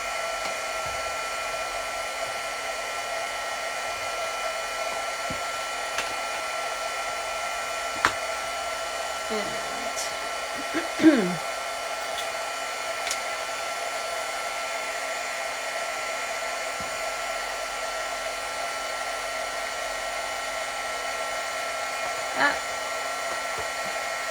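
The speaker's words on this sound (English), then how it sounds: "It's gonna get a little loud here. Turn my heat gun." A heat gun for embossing gold powder on a handmade card runs continuously as a steady, loud, even blowing drone with a few faint knocks and handling noises underneath.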